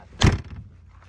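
Heavy rear door of a Mercedes G63 carrying a spare wheel, closing with a single solid, deep thud up close, followed by a short fading rattle.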